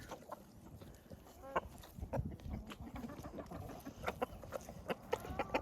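Hens cluck repeatedly in short bursts close by, a steady farmyard chatter with a few louder squawks over low background noise.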